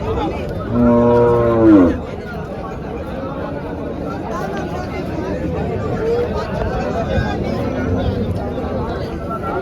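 A single cow moos loudly and briefly near the start at a cattle market in Chalisgaon, then a steady crowd murmur and background chatter continue.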